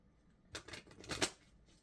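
A numerology card deck being shuffled, a quick close riffle of flicking cards in short bursts, quiet and alone.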